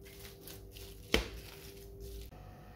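A single sharp, close thud comes as cooked chicken and chana dal are mashed together for kebabs, with a quiet kitchen background before and after the hit.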